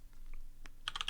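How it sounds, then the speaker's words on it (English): Typing on a computer keyboard: a few sparse, quiet clicks, then a quick burst of closely spaced keystrokes at the end, with no talking. "typing my own name into Spotify"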